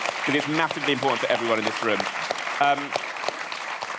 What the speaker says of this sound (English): So please do give a massive round of applause